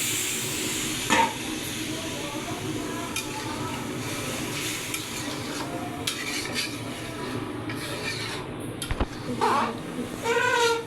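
Water goes into a pan of frying chicken pulao, setting off a steady hiss and sizzle of steam with some stirring and pot clatter, and a voice speaks faintly now and then.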